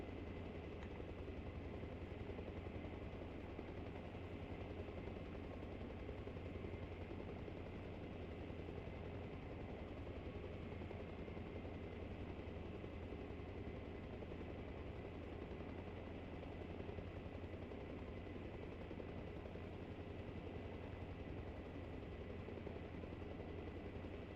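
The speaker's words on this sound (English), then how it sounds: "Slowly raise your collective while using the cyclic to pitch the helicopter's nose downward by 5 to 30 degrees" Helicopter rotor and engine drone in the video game ArmA Reforger, a steady, continuous low thrum with even loudness throughout, no voices.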